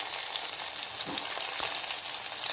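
Mackerel fish frying in hot oil makes a loud, continuous crackling sizzle close by, with a couple of soft stirring bumps and no talking.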